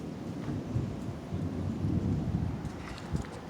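Low, rolling rumble of thunder from a thunderstorm, a continuous deep grumble that swells slightly midway, fairly faint and distant, with no voices.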